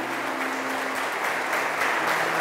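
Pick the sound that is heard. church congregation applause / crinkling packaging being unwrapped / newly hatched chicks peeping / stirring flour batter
church congregation applause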